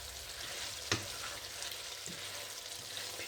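Cauliflower sabzi is stirred in a hot pan. A steady sizzle runs throughout, with one sharp clink of the spoon against the pan and soft scraping as the vegetables are mixed. No one speaks.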